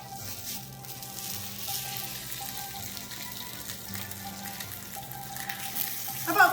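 Polenta pieces frying on a hot griddle coated with olive oil, a steady hissing sizzle running throughout at moderate volume, with a slight rise near the end.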